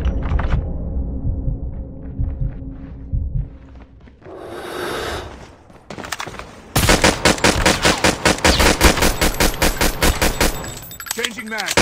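Bursts of rapid automatic gunfire from COD Mobile fill the second half, loud and close, after scattered shots, clicks and a rushing whoosh, with a voice briefly heard early on.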